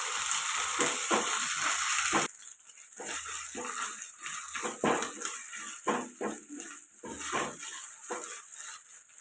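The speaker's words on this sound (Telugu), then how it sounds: "అల్లం వెల్లుల్లి పేస్ట్ వేసుకున్నాం ఇది కూడా పచ్చివాసన పోయేదాకా ఫ్రై చేసుకుందాం" Sliced onions and ginger-garlic paste sizzle and fry in a pan for a dried-fish brinjal curry, with a steady crackling hiss, louder at first, then softer with intermittent stirring scrapes and clatter against the pan, no talking.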